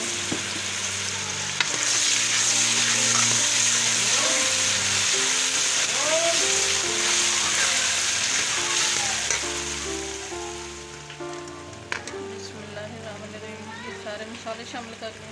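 Tomatoes, turmeric, salt and chilies hit hot oil in a pan for chicken curry with potatoes and peas, making a loud, close, steady sizzle that fades gradually toward the end while a voice speaks over it.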